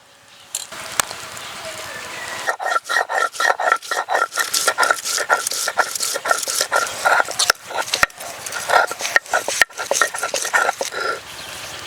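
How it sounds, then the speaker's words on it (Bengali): Garlic and ginger are ground together into paste, a rapid rhythmic run of grinding and scraping strokes that is loud and close, with brief pauses between bursts. "রসুন আর আদা একসঙ্গে বেটে নেব।"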